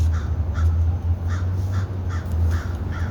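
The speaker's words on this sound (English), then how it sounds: "that's the motherfucking raven or the crow or whatever." A raven or crow caws repeatedly in an urban Harlem, New York setting, about eight evenly spaced harsh calls over a steady low rumble of city traffic, with no voices.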